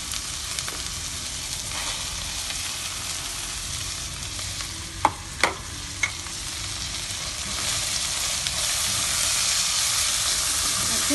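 Chopped tomatoes with ginger-garlic paste frying in a pan, giving a dense, steady sizzle with a couple of sharp spoon knocks, close and without talk.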